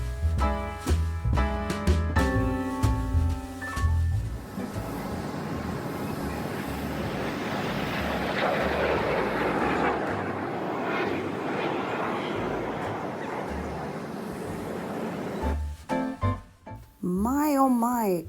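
Aircraft at the Dubai Airshow, heard as a broad, steady jet roar that swells and fades across the middle of the clip, with music before and after and no spoken voices.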